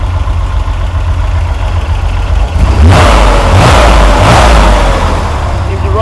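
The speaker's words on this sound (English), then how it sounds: "Seems to run good. Got a turbo muffler on it." A Pac Bell van with a turbo muffler idles with a loud low rumble, then the engine revs up several times in surging bursts before settling back, close and dominant.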